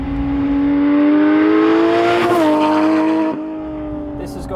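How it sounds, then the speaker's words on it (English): A Porsche 911 GT3 engine revs hard, a high mechanical scream that climbs steadily, then drops sharply on a gear change before carrying on at a lower level. The sound is loud and close. "It's still really mechanical, but it screams at an even higher pitch."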